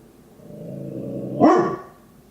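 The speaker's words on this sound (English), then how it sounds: "And that's my dog, Woody." A pet dog named Woody rumbles a low growl that swells into a single loud, close bark-yelp, then fades back into growling, with no talk over it.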